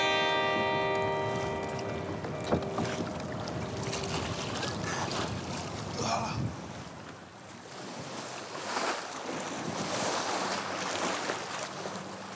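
Traditional canoe sailing along the island coast of New Caledonia, with steady ocean waves washing and wind rushing past in a continuous broad roar, water sloshing close by throughout.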